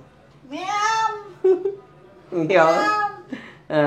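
A kitten meows several times in short, bright, rising calls, close and clear, with brief pauses between them in an otherwise quiet indoor setting.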